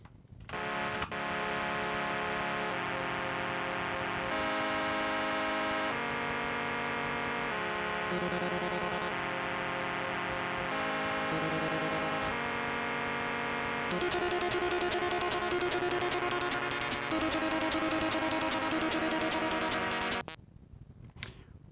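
Buzzy square-wave chiptune melody from a Commodore PET soundtracker plays continuously with harsh, bright tones and shifting notes, stopping abruptly at the end.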